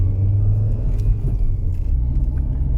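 A Rover 400's car engine gives a steady, loud low rumble from close by, with a slight revving swell and no talk.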